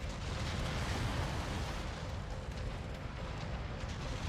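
A mech in a combat video game explodes into a long, dense roar of rumbling blast noise that stays loud and sustained throughout without easing.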